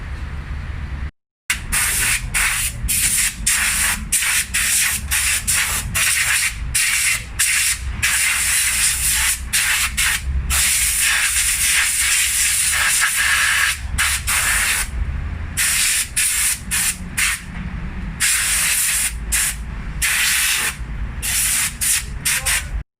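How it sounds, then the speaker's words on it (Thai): Water gushes steadily from a tap fed by a Mitsubishi automatic water pump, a loud continuous spray-like hiss with brief dropouts, close by and without talk. "น้ำออกก๊อกแล้วนะครับ"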